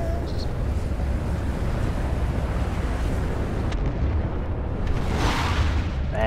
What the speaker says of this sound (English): I also hear a lot of firing going on